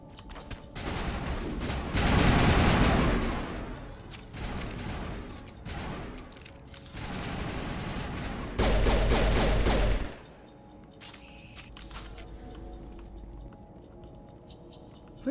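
Rifle gunfire from the Mass Effect video game on Eden Prime, loud bursts of rapid shots in several volleys with short pauses, then a quieter stretch of fading game effects and faint ambience.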